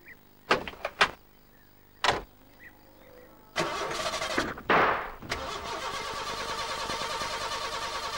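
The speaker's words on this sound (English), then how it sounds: "She won't start, Ted" Postman Pat's van engine cranks and fails to start, heard as a few sharp clunks and knocks, then a rough whirring starter that rises, cuts out and grinds on steadily.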